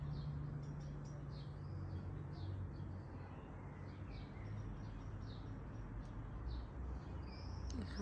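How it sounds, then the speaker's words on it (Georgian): Birds sing and chirp on a quiet summer morning in Gurjaani, the repeated short calls fairly faint over a steady low background hum, with no talking. "ესეთი ჩიტების ხმა."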